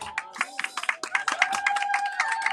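Applause and cheering from guests at a church wedding blessing: irregular claps mixed with a sustained tone and crowd voices, lively and close.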